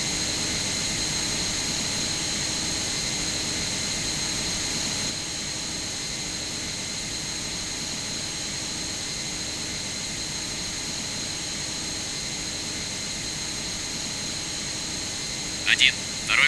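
A jet aircraft takes off in the Strike Fighters 2 flight game, a steady, loud engine roar that holds at one level and eases slightly partway through, with a brief sharp burst near the end.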